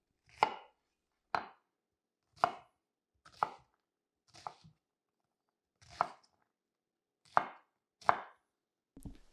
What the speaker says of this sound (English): slice into the onion towards the root end, and that's going to give us the ability to go ahead and chop it up